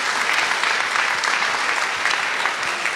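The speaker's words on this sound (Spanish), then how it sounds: "Pues un aplauso para la compañera." Steady, dense clapping from an audience at a conservatory event on preserving a mother tongue, sustained and fairly loud for the full few seconds without pause.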